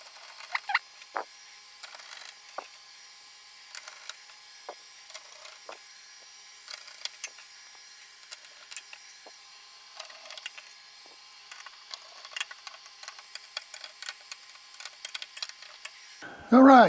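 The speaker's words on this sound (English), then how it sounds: "All right, motherboard screws are in." Small motherboard screws are driven into a compact computer case, heard as quiet, irregular ticks, clicks and light scraping of a screwdriver on metal, close up, ending with a brief louder sound.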